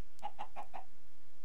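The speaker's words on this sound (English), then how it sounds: "There was a chicken right there." Four quick, evenly spaced chicken clucks ring out clearly from a Minecraft game, short bright blips over otherwise quiet background.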